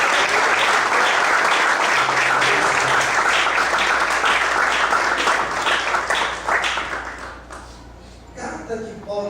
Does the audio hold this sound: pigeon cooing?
no